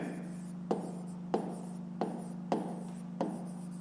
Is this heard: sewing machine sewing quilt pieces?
no